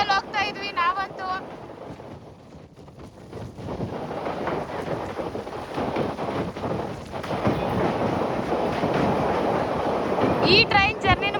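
Steady rushing rumble of a train crossing the sea bridge to Rameswaram, buffeted by strong wind noise that swells toward the end, with voices talking briefly at the start and finish.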